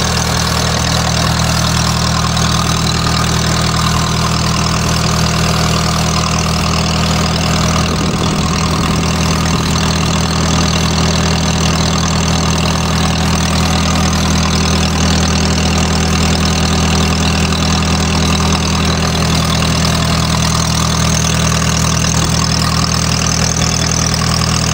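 A Kohler emergency light plant engine runs steadily at a warm idle under load, a loud, continuous low hum with a constant mechanical drone and no pauses throughout.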